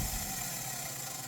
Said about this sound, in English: fires really quick, but then immediately dies